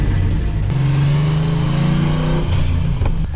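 A Ford Crown Victoria drift car's freshly installed engine runs loud and close, with a steady rumbling idle that swells briefly in a low rev before settling again, and no talking.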